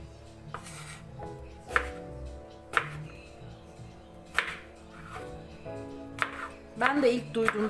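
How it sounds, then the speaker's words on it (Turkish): A knife chops eggplant on a board for a diet eggplant brownie, with a few sharp, irregular cuts heard close up under a person talking. "Şu şekilde ben rastgele doğruyorum."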